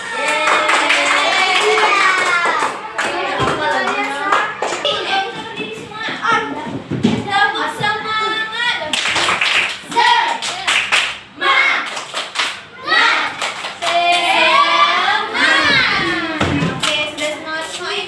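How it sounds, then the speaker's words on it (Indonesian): Children in an Indonesian classroom clap their hands in bursts amid lively chatter, with a teacher's voice leading and the claps mixed under near, loud talking throughout. "Tepuk tangan."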